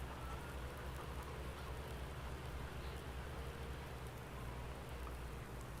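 Steady rain in Farming Simulator 19 on the Lone Oak farm map, a dense, even hiss of falling drops with a low rumble underneath, continuous and unbroken for the whole stretch with no voices.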